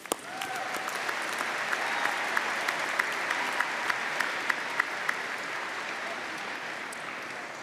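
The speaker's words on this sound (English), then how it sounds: "Please give a round of applause for our valiant readers." Audience applause fills a graduation commencement hall, a steady wash of many hands clapping at a moderate distance, with a few sharper individual claps standing out, continuous throughout.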